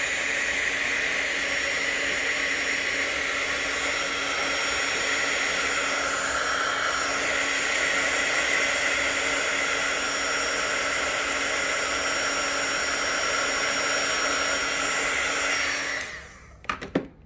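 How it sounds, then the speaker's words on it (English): A heat gun blows steadily over a card panel to dry the ink, a loud, even whooshing roar that runs unbroken for about sixteen seconds and then cuts off abruptly. "turn on the heat gun real quick and just dry this up"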